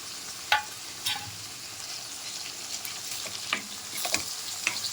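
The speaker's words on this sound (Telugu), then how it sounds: "సో ఇక్కడ క్యాప్సికమ్ అండ్ క్యారెట్ బాగా రోస్ట్ అయినాయి" Capsicum and carrot roasting in a pan give a soft, steady sizzle broken by a few sharp pops and crackles, close and moderately quiet, with no one speaking.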